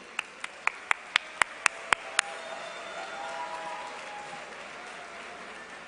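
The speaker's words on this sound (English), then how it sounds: "Ladies and gentlemen, please give a round of applause to Harun and Mahin." Hand claps ring out at a medical association convention, about eight sharp, evenly spaced strikes over two seconds. The clapping is clear and near, then stops, leaving a low murmur of room noise.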